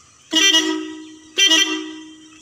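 A loud combine harvester horn sounds twice up close, the first blast about a second long and the second slightly shorter, with a steady hum underneath.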